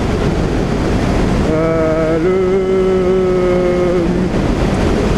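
A CF Moto 650NK motorcycle riding at about 150 km/h produces a constant roar of wind rush, with a steady engine drone rising and shifting in pitch through the middle before settling back under the wind.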